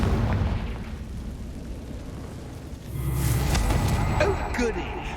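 A Confringo blasting spell goes off in Hogwarts Legacy as a broad, rumbling burst that swells midway and crackles on, following a stretch of low, noisy ambience.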